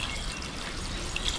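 Water trickles steadily out of washed soil during a clay content test, a continuous, fairly loud hiss and dribble with no voices.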